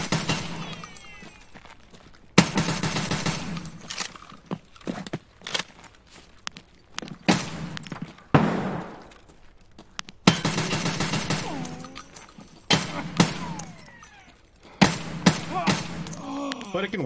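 Gunfire in a PvP shooter game on the Reserve map, fired through cages: sharp single shots and short bursts at irregular intervals, with footsteps and movement between them.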